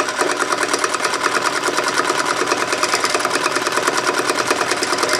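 Sewing machine running at a fairly fast speed while stitching a meandering pattern, a loud, close, continuous rapid mechanical chatter with an even rhythm throughout.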